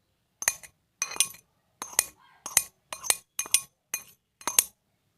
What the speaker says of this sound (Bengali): সুজিটাকে ঢেলে নিচ্ছি একটা মিক্সিং জারের মধ্যে। একই সাথে দিয়ে দিচ্ছি 100 গ্রাম টক দই।